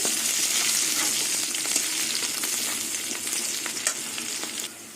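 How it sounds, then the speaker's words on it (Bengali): Steady, close sizzling of garlic and onion frying in hot oil, with occasional stirring clicks and scrapes through the whole stretch. "এটা সব কিছু দিয়ে আবার ভেজে নেব রসুনের কাঁচা গন্ধটা চলে যাওয়া অবধি"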